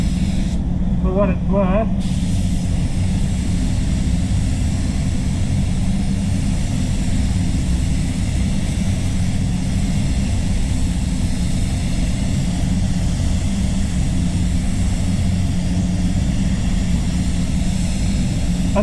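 A spray gun lays basecoat paint on a Mercedes C200, a steady loud hiss running unbroken throughout, with a voice talking briefly near the start.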